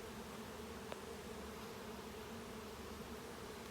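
A close, unbroken drone of honey bees at an open hive during inspection, the steady pitched hum holding throughout with one brief click near the start and no voices.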